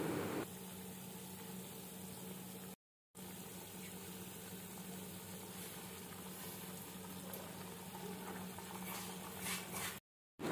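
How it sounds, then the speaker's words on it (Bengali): Oats khichuri boils in a pot with a steady, close bubbling and hiss that carries on throughout, broken by two brief silent gaps. "পাঁচ মিনিটের মতন ফুটিয়ে নিলেই রেডি হয়ে যাবে ওটসের খিচুড়ি।"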